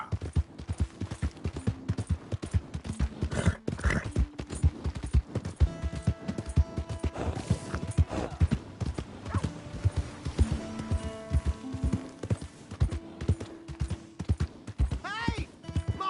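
Rhythmic clip-clop of horse hooves trotting in Red Dead Redemption II, with a whinny, short tones and game sound effects mixed in; a voice speaks over parts.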